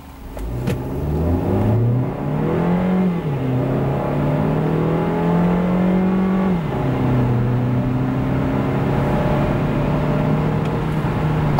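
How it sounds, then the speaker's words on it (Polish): SsangYong Tivoli 1.5 T-GDI accelerating from standstill to 100 km/h on a wet road, engine note rising steadily through the gears with clear drops at each shift, heard from inside the car. "tak samochód przyspiesza na wilgotnej nawierzchni od 0 do setki."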